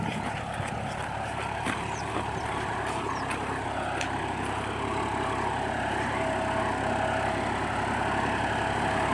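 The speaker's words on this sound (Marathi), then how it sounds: "जॉन डेअर 60 HP ट्रॅक्टर आहे मित्रांनो. हा लिंकन डबल पलटी लागलेला आहे." A John Deere 5405 60 HP 4x4 tractor pulling a Limkan double reversible plough drones with a loud, steady engine hum close by, joined by a few faint clicks and knocks.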